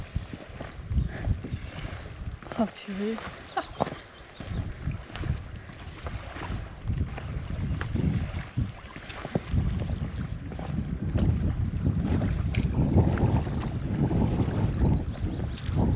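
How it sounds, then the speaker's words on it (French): Strong wind blowing outdoors on a Swedish coast, gusty buffeting against the microphone with a low rushing roar that rises and falls, while a person briefly exclaims over it. "Il y a du vent."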